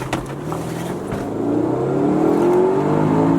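Widebody Mitsubishi Evo X with a manual gearbox accelerating hard, engine note climbing steadily in pitch and swelling louder over several seconds, close and continuous with no talk.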